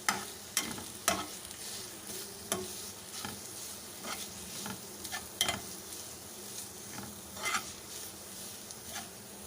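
Chopped green onion and vegetables stirred in a pan, with repeated soft scraping clicks over a quiet, steady sizzle; no one talks.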